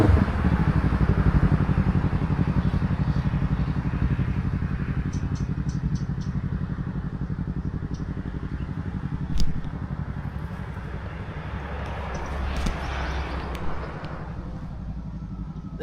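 Motorcycle riding the Chiang Mai loop in Thailand, a steady mid-pitched engine drone with wind rumble, loud and continuous with a few faint clicks, no talk.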